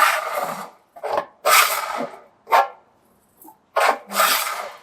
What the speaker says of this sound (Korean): 가질 작업을 통해 피막을 깎아줍니다